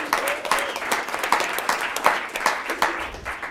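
Audience applause fills a meeting space at a 1 Million Cups startup event in Kansas City, a steady dense patter of many hands clapping at close range for the whole stretch, fairly loud and without pause.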